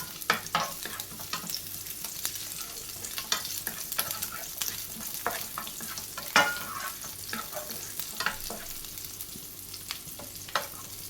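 Dried curry leaves and a piece of tamarind sauté in hot oil for a Kerala-style pumpkin chutney, giving a steady close sizzle broken by occasional scraping stirs of a spoon in the pan.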